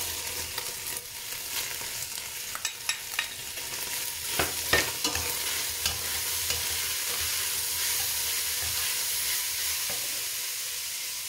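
Seared meat and freshly added onions sizzle steadily in a pan for a Turkish farm kebab, with a constant close frying hiss broken by occasional stirring scrapes and pops.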